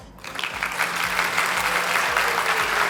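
A studio audience applauding a music arranger on a television evening show, dense steady clapping that swells in quickly and holds loud and close.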